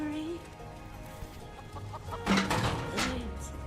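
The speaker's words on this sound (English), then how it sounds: "I can't keep up with a flock of chickens." Chickens clucking in the Final Fantasy VII Rebirth video game, a flock of fowl giving scattered, overlapping clucks and squawks that grow busier toward the end, over a steady game background ambience.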